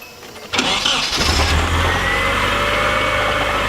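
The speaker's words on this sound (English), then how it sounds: "Go start your car. Yeah, just start it." A Nissan 240SX engine cranks briefly and catches, then settles into a steady, loud idle that continues to the end.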